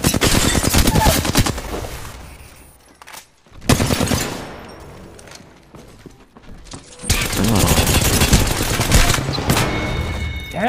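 Apex Legends gunfire in loud, rapid automatic bursts, with a burst at the start, a second around four seconds in, and a long sustained stream near the end, separated by quieter pauses.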